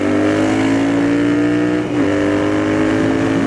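A Royal Enfield Interceptor 650 motorcycle engine revs and accelerates close by, a steady loud drone with rising tonal harmonics and a brief dip near the middle.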